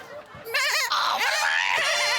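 A human voice imitates a goat, giving a loud, wavering, nasal bleat that starts softly and swells into a sustained quavering cry, close to the listener.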